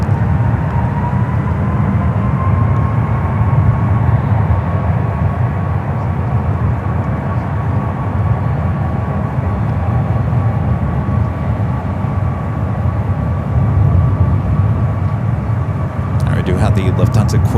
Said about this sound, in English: that's a 737 MAX 8 with American utilizing one ride as the taxiway as it heads out to the 28s